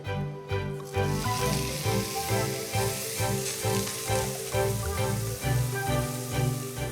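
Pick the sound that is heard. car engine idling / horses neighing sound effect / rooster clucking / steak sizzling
steak sizzling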